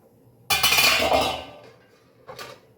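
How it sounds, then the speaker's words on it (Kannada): Rice dumplings (akki kadubu) go into a steaming vessel with a sharp metallic clatter of pots, a brief rattling burst followed by a quieter second clink a moment later. "ಪಾತ್ರೆ ಒಳಗಡೆ ಇಡ್ತಾ ಇದ್ದೀನಿ ಸ್ಟೀಮಿಗೆ"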